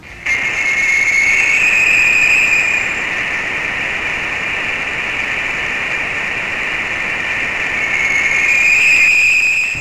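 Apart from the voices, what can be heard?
space probe recording: monotonous hum with piercing whistle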